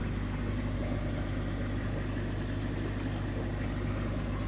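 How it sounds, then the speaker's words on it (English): Car exhaust idling, on a setup that runs from turbo through down pipe and straight pipe to a muffler and tip, giving a steady low rumble that holds without change throughout, close by with no talk. "here's my exhaust."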